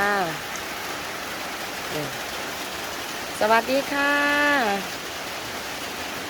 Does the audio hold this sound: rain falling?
yes